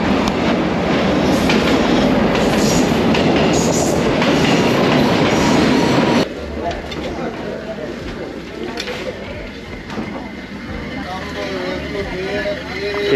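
A train in Sri Lanka rumbles past loudly with rattling wheels, then the noise drops to a lower clattering hum as voices talk over it.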